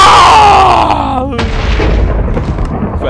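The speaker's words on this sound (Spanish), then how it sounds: "los disparos van a sonar demasiado duro" Loud gunfire from a Minecraft match, a heavy blast that booms and then trails off into rumbling noise, with a voice crying out just before it.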